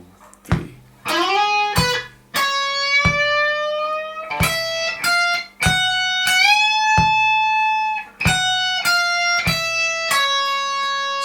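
Distorted electric guitar plays a solo lick from a song, with bent sustained notes and rapid picked runs in short phrases, loud and upfront with no talking.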